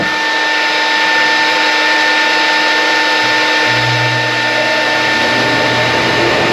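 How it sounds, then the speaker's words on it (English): Avid CNC router spindle running through a warm-up cycle, a steady high-pitched whine with bright tonal lines held throughout, joined by a lower hum partway through as speed shifts, close and loud with no talk. "we need to do a warm up of our spindle."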